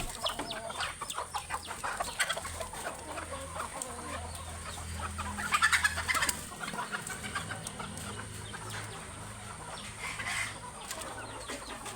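A flock of chickens clucks and mutters steadily in a yard, with a few louder squawks near the middle and a low background rumble, no talk.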